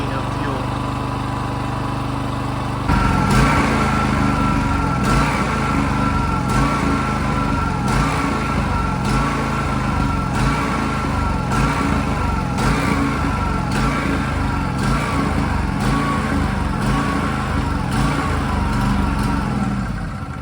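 A Champion portable generator runs with its fuel shut off, beginning to starve: a loud, close engine drone that surges and dips in a repeating rhythm, with brief steadier running at the start.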